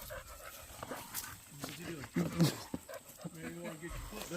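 A dog panting close by in short quick breaths, interrupted by a few whimpers and small yips, with a person talking over it at intervals.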